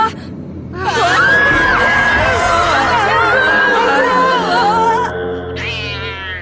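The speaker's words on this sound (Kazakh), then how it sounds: "Мысықтар. Олар солай мияулайды ғой." Cats in a football game meow and yowl in long, wavering, drawn-out cries, loud and close, layered over a low murmur of background chatter, with a brief fresh cry starting near the end.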